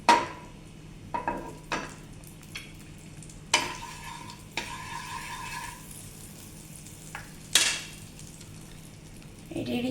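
A burger patty frying in butter and a spoon of oil in a hot pan gives a soft steady sizzle, broken by a few sharp clinks and scrapes of a utensil stirring against the pan.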